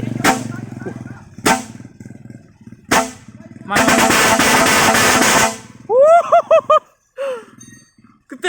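A newly installed truck air horn: several loud, short blasts with pauses between them, then a sustained blare lasting about two seconds, followed by rising tonal honks and chirps.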